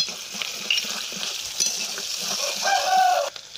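Bay leaves, cinnamon and cloves dropped into hot mustard oil with lightly browned onions, giving a close, lively sizzle and crackle with a few louder spits and stirring noises before the sizzling fades at the end.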